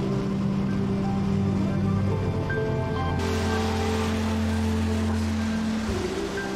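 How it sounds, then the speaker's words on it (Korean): Steady rain falling in Reykjavik, Iceland, a continuous broadband wash of water with a low steady hum beneath it, unbroken for several seconds and with no voices. "다음 날 레이캬비크엔 비가 추적추적 내렸다."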